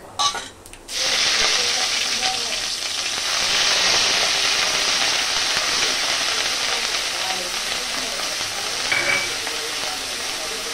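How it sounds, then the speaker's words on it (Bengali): Onion and cumin paste hitting a hot pan with bay leaf and cinnamon, a sudden loud sizzle that holds steady and close for several seconds, with faint utensil clinks. "এরপর দিয়ে দিব পেঁয়াজ আর জিরা বাটা।"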